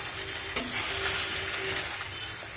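Fried paneer is stirred into spinach paste in a hot pan, giving a steady soft sizzle with faint scraping of the spoon against the pan.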